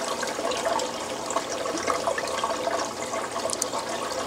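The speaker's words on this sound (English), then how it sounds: "Now look at the water flow up on top here." Strong aquarium water current from a WP40 wave pump with voltage regulator rushes and churns steadily near the surface, a loud continuous wash of bubbling flow with no talk.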